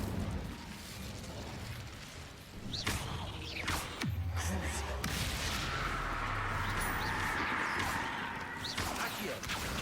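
An Incendio fire spell cast in Hogwarts Legacy roars inside a cave, a loud whooshing burst with a heavy thud, under sustained rumbling combat noise that stays dense throughout.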